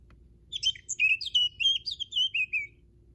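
Cartoon birds in a children's counting game let out a quick run of bright, high chirps and tweets lasting about two seconds, clear and close against a quiet background.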